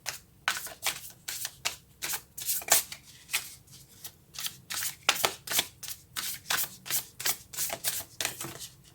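Tarot cards shuffled and handled during a reading, a rapid run of crisp riffling flutters and snaps repeated in quick bursts, close and fairly loud, with no talking.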